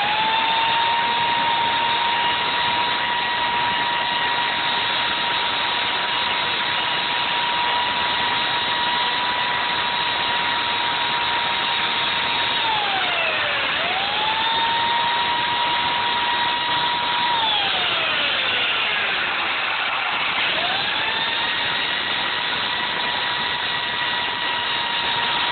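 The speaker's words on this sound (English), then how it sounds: "I'll kind of also use a chainsaw to roughen the area up and give it some texture." A chainsaw engine drones steadily and loudly throughout, its pitch dipping twice as it bogs down while roughening the surface of foam for a fake rock.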